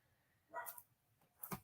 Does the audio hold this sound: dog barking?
yes